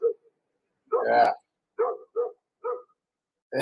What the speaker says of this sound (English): I got the dog barking.